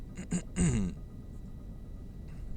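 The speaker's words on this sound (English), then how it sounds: "I keep having to clear my throat" A single close, rough throat clearing, a couple of short raspy bursts then a longer guttural rumble, followed by quiet room noise.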